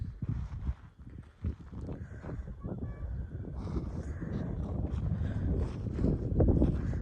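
A cold wind blows outdoors at a picnic in Saudi Arabia, making a steady low rumbling buffet that swells gradually louder toward the end.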